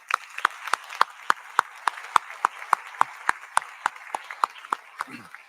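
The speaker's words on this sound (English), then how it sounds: "I applaud you" At a university convocation ceremony, an audience claps in unison with sharp, evenly spaced beats of about three per second, fairly close and steady throughout.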